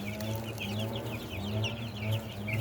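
Cornish hens and turkeys in a farmyard pen give soft, continuous clucking and chattering, a dense layer of overlapping bird calls over a steady low hum.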